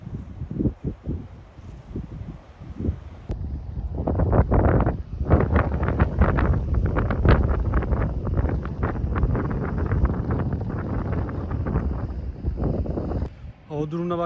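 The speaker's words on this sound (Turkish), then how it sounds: "Bayağı rüzgar çıktı. Rüzgar atmaya başladı." Strong wind on Patara beach in Turkey roars and buffets the microphone in heavy, continuous gusts, with low rumbling bursts throughout and a brief lull near the end.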